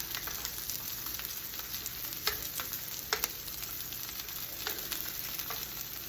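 Chicken and sausage browning in a pot for gumbo, a steady close sizzle of frying with scattered crackles and pops, no voices.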